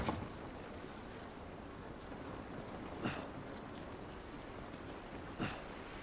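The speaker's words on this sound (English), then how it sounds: "This rain ain't gonna do us any good." Steady rain falling in The Last of Us video game, a continuous wash of drops on surfaces with no voices, broken by two brief louder splashes or thumps partway through.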